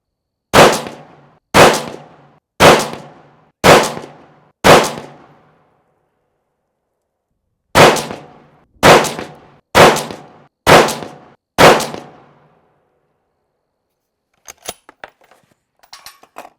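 A Bergara 6.5 Creedmoor rifle fires at steel targets: two sets of five loud, evenly spaced sharp reports with ringing decay, separated by a pause, then faint clicks and handling noises at the end.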